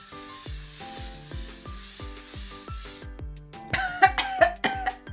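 A person coughs several times in quick, harsh bursts, following a stretch of soft rhythmic thumping.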